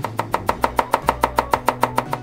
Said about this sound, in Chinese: 把鱼一直剁，一直剁